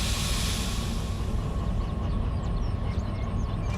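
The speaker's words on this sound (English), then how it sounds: "Okay, mechanical brakes are released." Air brakes on a DH4 locomotive in the train game Derail Valley let off with a steady, loud hiss of escaping air and a low rumble beneath it. Nobody speaks.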